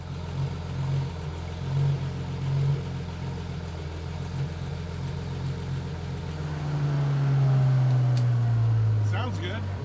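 Car driving after a major drivetrain upgrade, a steady mid-low engine drone with gear whine, rising in pitch and loudness as it accelerates late on, with talk over it.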